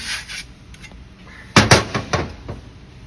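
A seat bracket rail on a Super Duty seat slides along its track, giving a brief cluster of metallic scraping and knocking clunks after a quiet start, fairly close and alone.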